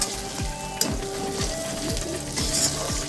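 Crushed ginger sizzles and fries in hot oil in a pan, a steady crackle broken by repeated stirring scrapes at roughly half-second intervals, close and fairly loud with no voices.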